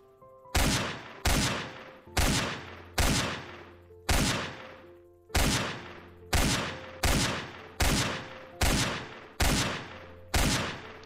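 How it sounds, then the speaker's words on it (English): Video game gunfire in Apocalypse Rising, a steady series of about a dozen loud, sharp single shots spaced roughly a second apart, each with a short decaying tail, with no talk. "Oh, they're firing at him."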